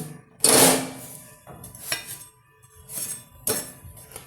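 Frying food is flipped in a pan with a sharp metallic clatter of utensil on pan, followed by several lighter scrapes and clinks at close range.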